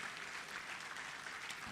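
Faint, steady clapping from an audience at a higher education summit in Ghana as a speaker walks to the stage, a soft continuous wash of hands without voices.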